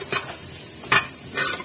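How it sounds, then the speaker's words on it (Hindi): Cumin frying with sautéed onions in a pan, three distinct spatula scrapes cutting through a light, constant sizzle, close up with no voices. "जीरे को इसमें जरा सा फ्राई करेंगे"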